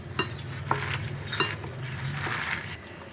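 Papaya flower fritter batter being mixed with rice flour in a bowl, making soft wet squelching and stirring sounds with a few sharp clicks of utensil against the bowl, close and steady, with no talking.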